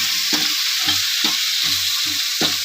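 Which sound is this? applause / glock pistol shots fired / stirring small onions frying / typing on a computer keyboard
stirring small onions frying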